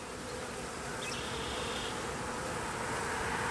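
Honey bees hum in a dense, continuous buzz while being hived from a box, a steady swarm drone close by with no voices, holding even loudness throughout.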